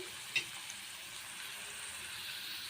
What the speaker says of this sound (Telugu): ఇట్లా ఫ్రై చేసుకున్నాం